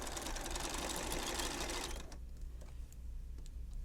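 Sewing machine backstitching a seam on a zipper bag, a rapid steady mechanical whir for about two seconds, then stopping into quiet hum and faint clicks.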